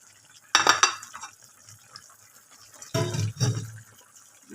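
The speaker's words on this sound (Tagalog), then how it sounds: "Halo na natin siya." Chopsuey vegetables with liver stirred in a pan, two bursts of scraping and clattering from a utensil against metal with light sizzling in between, close and unaccompanied by talk.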